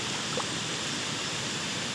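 Ghonsari waterfall in the misty hills of Kankavli taluka, Sindhudurg, gives a faint, steady distant rush of falling water with no voices.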